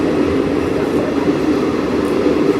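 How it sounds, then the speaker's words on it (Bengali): The Aranyak Express pulls into Bishnupur station with a loud, steady rolling rumble of carriages and wheels on the track. It is close and continuous, with no talk. "তো বন্ধুরা, 17 মিনিট লেট করে আরণ্যক এক্সপ্রেস এখন বিষ্ণুপুর স্টেশনে পৌঁছালো।"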